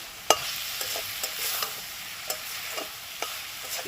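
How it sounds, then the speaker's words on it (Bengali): Spices, tomato and aubergine frying in oil for a spinach and chana dal dish, a constant soft sizzle broken by regular scraping taps of a spoon stirring the pan, close and without voices. "সমস্ত মশলাগুলো ভালো করে কষাতে হবে যতক্ষণ না পুরোপুরি তেল ছাড়ছে"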